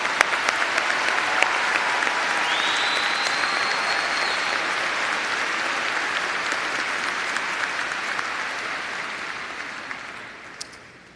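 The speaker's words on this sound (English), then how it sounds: "Please join me in applauding the faculty for their service to OSU" Sustained applause from a commencement audience honoring faculty at a spring college of arts and sciences ceremony, a dense steady wash of clapping that holds for about ten seconds before starting to fade, with no speech over it.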